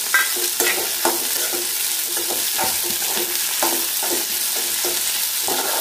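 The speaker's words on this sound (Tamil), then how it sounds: "இதே எண்ணெயிலேயே இந்த பிரண்டை போட்டு தட்டி வதக்கிடுங்க" Pirandai (adamant creeper) sautéing in oil, a loud constant sizzle with rhythmic scrapes and taps of a spoon pressing and stirring the stems in the pan, close by.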